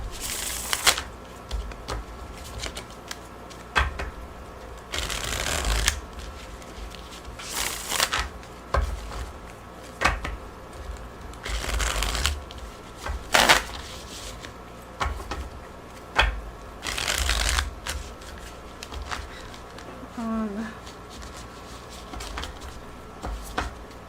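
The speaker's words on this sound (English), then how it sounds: "you really gotta make sure they're shuffled well" A new deck of playing cards is shuffled repeatedly, with crisp riffling bursts and bridging flutters spaced a few seconds apart and quieter handling between them, close up and with no talking.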